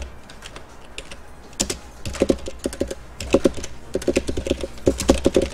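Fast, irregular keystrokes on a computer keyboard entering AutoCAD commands, close and clear, in uneven bursts with short pauses and no voices.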